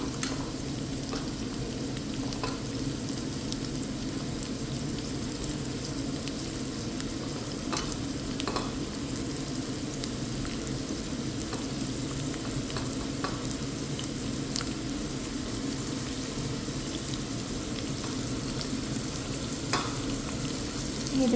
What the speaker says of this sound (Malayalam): അതിലോട്ട് നമുക്ക് അരിഞ്ഞു വെച്ചതും മുഴുവനായിട്ടുള്ള ഉള്ളിയും കൂടെ ഇട്ട് കൊടുക്കാം.